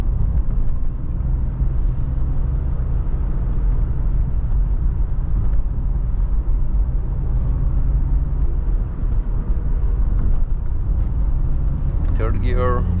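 A 1992 BMW E34 520i with the M50 engine pulls hard at full throttle in third gear, a steady loud engine drone and road rumble heard from inside the cabin with talk over it.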